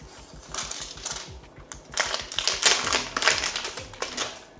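Plastic packaging on a Samsung 5100mAh battery pack is pulled open up close, making bursts of crisp crinkling and snapping clicks that come in uneven clusters, louder in the second half.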